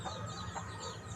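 Chicks clucking softly, a few close chirrups and murmurs over a low steady background, brief and fairly quiet.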